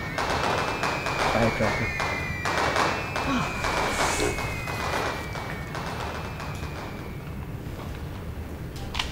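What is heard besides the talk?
fireworks going off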